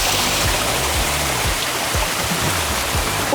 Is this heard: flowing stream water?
yes